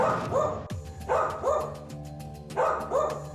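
A police sniffer dog barks repeatedly at close range, three bursts of barking spaced roughly a second apart with a sustained tonal hum beneath, no talking.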